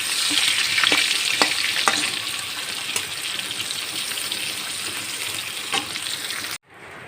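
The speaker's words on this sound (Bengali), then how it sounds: "অনেকটা তেল আছে বলে এটা মজে মজে করে ভেজে নিচ্ছি" Potatoes fry in a generous amount of hot oil with a steady, bright sizzle and a few faint clicks of stirring, holding close and even before cutting off abruptly near the end.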